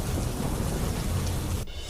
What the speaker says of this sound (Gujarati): સુરતમાં ધોધમાર વરસાદ ખાબકતા રસ્તા થયા જળમગ્ન.